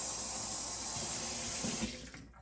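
Water gushes steadily from a tap, a broad hissing splash that runs evenly before tapering off near the end.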